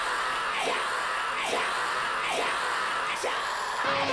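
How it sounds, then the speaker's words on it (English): Delayed screams layer over lead guitar in a dense metal breakdown mix, with a steady wall of distorted sound and repeated scream bursts swelling roughly every second. "and also some delayed screams."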